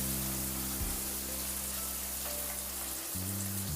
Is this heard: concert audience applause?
no